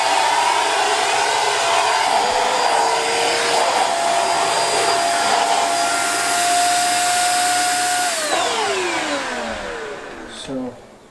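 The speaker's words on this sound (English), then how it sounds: "So now you can use it as hand vacuum." A Dirt Devil Power Stick vacuum cleaner runs steadily and loudly at close range with a constant whine, then winds down as it shuts off near the end.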